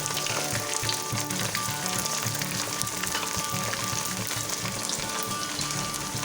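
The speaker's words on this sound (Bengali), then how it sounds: "আমি তো একটু জাস্ট একটু টান টান করে ভাজছি।" About a kilo of paneer cubes frying in hot oil in a pan for chilli paneer, giving a steady, dense sizzle with crackling spatter that holds close and constant throughout.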